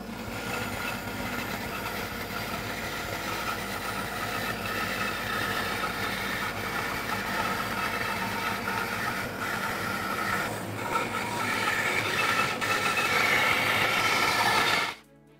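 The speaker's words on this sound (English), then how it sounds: "now that I've run all three boards through the bandsaw" A woodworking bandsaw resaws boards into thin book-matched panels, producing a loud, steady whining drone with a continuous cutting roar that holds for about fifteen seconds before stopping abruptly, with no talking.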